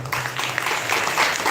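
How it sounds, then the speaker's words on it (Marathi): An audience at a temple function in Hatnur claps for the Maharaj, a steady wash of many hands applauding together, moderately loud and unbroken, with no speech over it. "सर्वांनी महाराजांसाठी एकदा टाळ्या वाजवायच्या आहेत"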